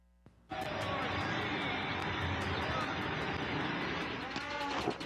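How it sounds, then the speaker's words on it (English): A drone's loud, continuous rushing roar and wind noise starts suddenly and holds steady for several seconds as it flies and deploys a parachute, with no clear talking over it. "that was actually a short video of the parachute actually deploying and it falling to the ground."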